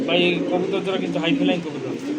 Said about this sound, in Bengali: কত সুন্দর কবুতর দেখেন